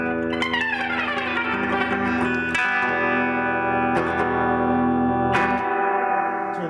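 A semi-hollowbody electric guitar modeled on a Gibson ES-335 rings out through heavy reverb, a few strummed chords and picked notes blooming and sustaining into a long washy tail, played alone with no talk.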